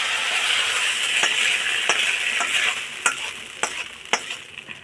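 A spice tempering sizzles in a pot of khichuri while a spoon stirs it, a bright continuous hiss broken by several sharp scraping knocks of the utensil against the pot, close by and loud.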